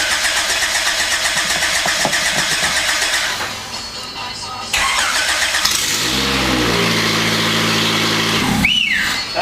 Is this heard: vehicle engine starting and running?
yes